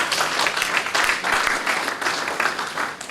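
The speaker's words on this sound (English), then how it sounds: "please give God a round of applause." A conference audience breaks into applause, a dense, continuous burst of many hands clapping at close range for a few seconds.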